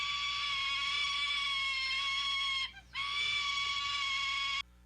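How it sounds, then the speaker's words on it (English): A young Australian sulphur-crested cockatoo begging its parent for food lets out a loud, harsh, continuous scream, breaking off once briefly before resuming and then cutting off abruptly; no voices. "a sulfur-chested cockatoo screaming for his mother to feed it"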